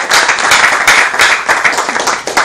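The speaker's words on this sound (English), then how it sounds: "Can we give him a round of applause?" Loud, close applause from a debate audience, with many hands clapping in quick, uneven bursts that pulse throughout the short stretch.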